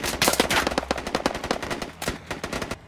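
Rapid automatic M4 rifle fire from the game Squad crackles in dense, loud bursts, a sustained volley followed by a short pause and another string of shots, with no talking.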